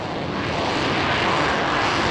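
A Eurofighter Typhoon jet flies at the Paris Air Show, its engines producing a loud, steady, broadband roar that fills the whole moment without a break.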